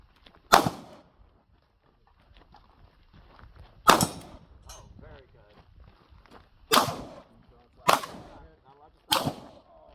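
Handgun shots ring out during a move-and-shoot drill at an outdoor class, five sharp cracks spaced a few seconds apart, with faint voices and movement between shots.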